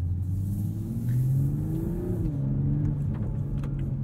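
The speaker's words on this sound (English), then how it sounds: "It adds some extra exhaust burbles, pops." A 2021 Toyota Supra 3.0 engine in sport mode revs and rises in pitch, a deep throaty exhaust drone with rumbling harmonics, steady and close, no voices.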